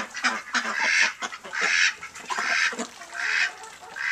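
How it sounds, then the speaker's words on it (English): A backyard pen of white meat ducks and a single goose erupts in repeated loud honks and quacks, bursts overlapping close by in an uneven rhythm, with no talking. "And we're back out to the ducks that I have. The white ducks are the meat ducks."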